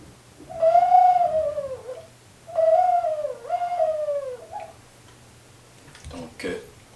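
Turtle dove call imitated with a bird lure: two drawn-out, tonal cooing phrases, close and steady, followed by a brief faint rustle.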